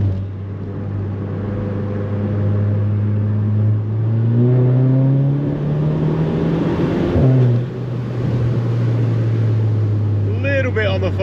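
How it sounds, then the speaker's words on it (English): A stage 2 tuned VW Polo GTI accelerates hard on a night drive, its engine drone climbing steadily in pitch through the gears with a brief dip at a shift, loud and continuous from inside the cabin. "I think like third gear onwards it just absolutely kicks the boost in."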